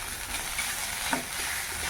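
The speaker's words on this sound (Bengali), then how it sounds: "ঠোঁটটা প্রায় ভাজা হয়ে এসছে" Silver carp frying in hot oil in a home kitchen, a steady low sizzle running throughout with one brief clink near the middle.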